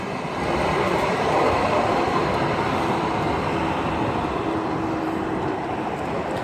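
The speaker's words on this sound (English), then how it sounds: "that train that just rolled by me" A light rail train in Portland, Oregon rumbles steadily past at close range, a dense continuous roar of wheels on track that holds for several seconds.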